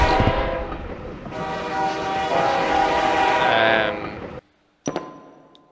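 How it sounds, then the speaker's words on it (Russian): A train rumbling past in the Suicide Guy video game, loud and close, with a long blaring horn over the clatter before cutting off abruptly, followed by a brief thump and quiet. "Поезд. Эй, поезд,"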